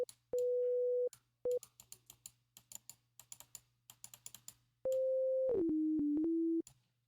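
Plain default sine-wave synth tones step through a short sequence as sustained pitched notes, the last few gliding lower, interleaved with steady computer keyboard typing and clicks under a low hum.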